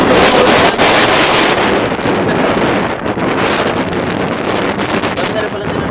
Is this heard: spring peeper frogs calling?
no